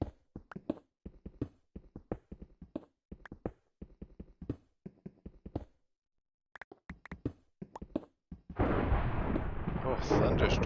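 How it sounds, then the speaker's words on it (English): Thunder cracks in a video game thunderstorm in a Minecraft-style survival world, coming as scattered sharp booms and taps before a sudden loud, sustained rumble of rain and thunder takes over near the end. "Oh, thunderstorm."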